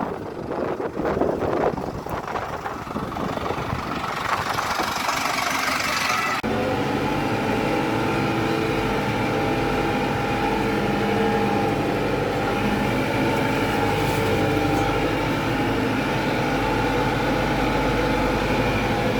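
A tractor engine drones steadily and loudly while pulling a spring-tine plough through sandy soil unploughed for 15 years, with rumbling mechanical noise and rattling at first, then a constant heavy hum throughout.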